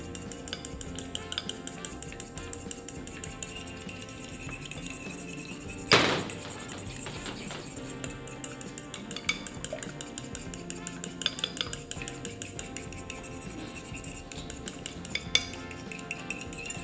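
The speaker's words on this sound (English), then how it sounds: "And then I'm just gonna use my fork to whisk this all together." A fork whisks maple syrup and vanilla together in a bowl, producing a steady, fairly quiet scraping and clinking of metal against the bowl, with one sharper knock near the middle.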